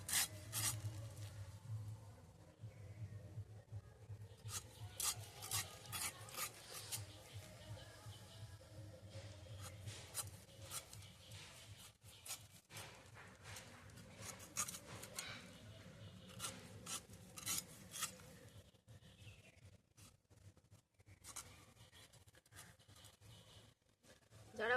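A knife hacks thick slices from the tough shell of an unripe jackfruit in a village kitchen, giving repeated close rasping, rubbing cuts in uneven bursts with short pauses between strokes.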